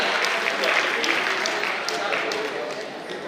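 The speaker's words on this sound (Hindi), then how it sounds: "जोरदार तालियां बजनी चाहिए" Audience at a school event clapping loudly, a dense sustained burst of many hands that eases slightly toward the end, with a voice talking faintly over it.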